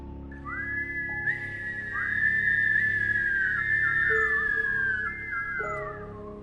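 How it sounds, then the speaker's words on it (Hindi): Drawn-out whistle blowing as a horror show sound effect, a long wavering tone that rises and holds for several seconds over a low droning background, then fades. "आज भी उस गांव में हर रात अब 2 सीटी बजती है।"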